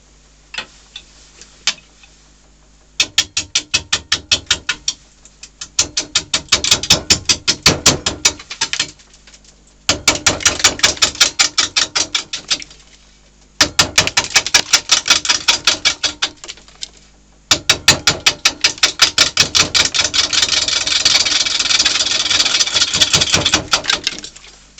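Wood lathe turning a wet, wobbling live-edge blank at about 320 RPM, a loud steady spin broken by bursts of rapid ticking and rattling clatter that start and stop several times, with no talk.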